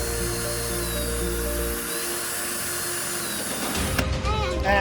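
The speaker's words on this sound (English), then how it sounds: "All right, drill another one." A power drill whines steadily in a continuous high-pitched run, then winds down near the end, leaving a few clattering handling noises.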